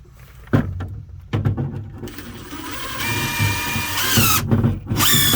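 A power drill drives screws into joists during raised-foundation band repair, sharp clunks of placement then whirring motor bursts that rise in pitch as the screw bites, loud and close.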